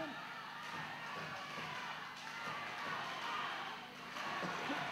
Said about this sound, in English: I think the people need to be quiet out there and let the man wrestle.